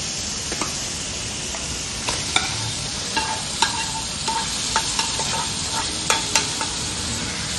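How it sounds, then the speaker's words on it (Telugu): Marinated country chicken frying and being stirred in a pan, a steady sizzle with scattered sharp clinks of a spoon against metal, close by and with no talk. "మ్యారినేట్ చేసిన చికెన్ వేసుకుందాం."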